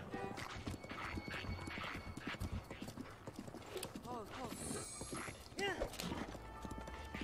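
Horse hooves clip-clop steadily in Zelda: Breath of the Wild, with a couple of neighs and whinnies near the end, loud and close over a busy game soundscape.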